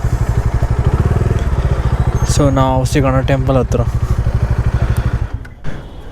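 A Bajaj Dominar 400 motorcycle engine idles steadily and close by with a fast, even pulse, while someone talks over it, before the rumble briefly drops away near the end.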